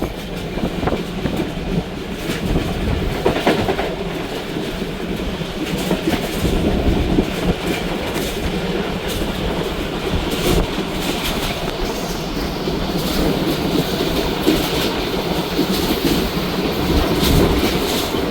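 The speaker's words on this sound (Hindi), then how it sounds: "और ट्रेन अप्रोच कर रही है" Khyber Mail passenger train running toward a station, with steady loud rumble and rhythmic clickety-clack of wheels over rail joints throughout, close and continuous with no talk.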